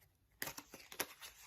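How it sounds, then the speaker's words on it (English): Tarot cards being shuffled by hand, giving a run of quick papery riffles and crisp card flicks, close and fairly quiet, with a few louder snaps. "Let me get a good shuffle."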